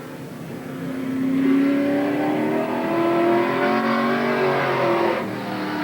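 Race car engine on a qualifying lap at Willamette Speedway in 1987, a loud sustained roar that climbs and holds steady as the car runs at speed, with no talk over it.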